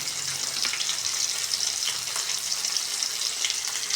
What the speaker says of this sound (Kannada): ತೆಂಗಿನಕಾಯಿ ಹಾಕಿದೆ, 1-2 ನಿಮಿಷ ಫ್ರೈ ಆಗಲಿ.